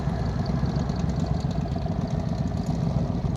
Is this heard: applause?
no